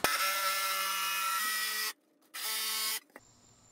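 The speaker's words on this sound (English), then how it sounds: "we're gonna use our jigsaw, super simple to cut out" A jigsaw cuts through a foam block in two close, loud buzzing bursts, the first about two seconds long and the second shorter, separated by a brief silence, with no talking.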